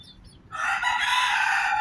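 A rooster crows loudly and close by, one long sustained call that starts partway through and runs to the end, with no talking.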